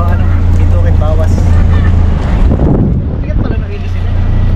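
A boat powered by a Mazda RF diesel engine runs at sea, its loud, steady low engine drone continuous throughout with wind buffeting the microphone, while a voice talks over it.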